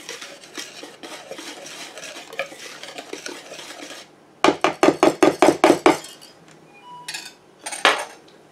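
Bread dough ingredients are stirred in a bowl, with close scraping and stirring followed by a quick run of about eight sharp, rhythmic clinks of a utensil against the bowl, then a few scattered knocks. No one speaks.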